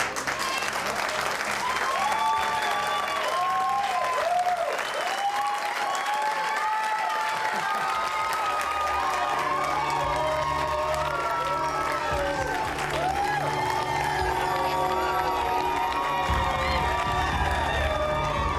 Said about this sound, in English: The fake, over-enthusiastic applause is disturbing to Ryan.